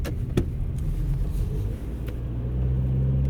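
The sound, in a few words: Mazda car approaching and passing on mountain road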